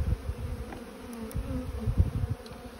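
Honey bees buzz steadily and close while hive frames are set back into place during a transfer from a nucleus box to a full hive, with a dense, continuous hum and soft handling bumps, no talk.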